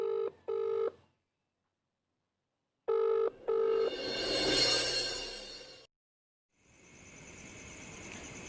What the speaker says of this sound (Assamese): যা ফোন কৰ,